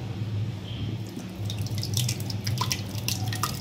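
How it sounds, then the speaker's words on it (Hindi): Freshly ground ginger juice strains through a thin cloth, making a close, steady trickle with soft drips and splashes of liquid falling into a container. "एक पतला कपड़ा में अभी हम इसे छानेंगे"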